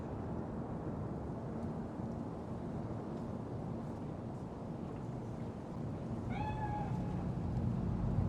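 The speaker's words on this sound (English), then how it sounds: "It is a cat spirit." A cat spirit in the video game Cyberpunk 2077 lets out a short, clear meow near the end, rising over a steady low rumble of ambient wind and background noise.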